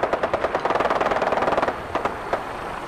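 Rapid bursts of automatic gunfire close by in the Fallout 4 video game, a dense stream of sharp cracks for about two seconds, then a few scattered single shots.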